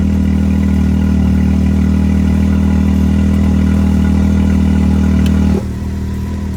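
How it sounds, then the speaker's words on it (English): A Can-Am X3 UTV with a full stage 3 kit rumbles loud and close through a shocker side dump exhaust in a steady, deep drone, then cuts off abruptly near the end, leaving a lower residual hum. "That was the shocker side dump."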